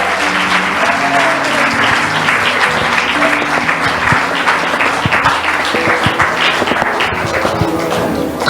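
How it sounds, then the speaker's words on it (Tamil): A church congregation claps hands loudly during worship, dense sustained applause from many people with some voices mixed in. "கையை தட்டி சத்தமா."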